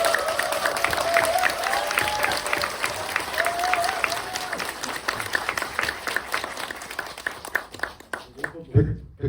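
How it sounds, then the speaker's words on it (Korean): Audience applause fills a Korean film screening Q&A event, a steady dense clatter of many hands that thins and breaks off near the end, with a voice speaking over it throughout. "여러분들 다시 한번 뜨겁게 박수 한번 쳐주시고"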